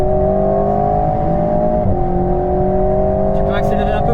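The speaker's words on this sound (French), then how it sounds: "Accélère, t'es pas assez vite." Alpine A110S sports car accelerating on a racetrack, a steady rising engine drone heard from inside the car, loud and continuous with a slight dip midway, with a few faint voice sounds near the end.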